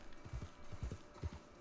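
Horse hooves clip-clop at a steady walking rhythm in the open-world western game Red Dead Online, a fairly quiet, close series of soft thuds with no talk over them.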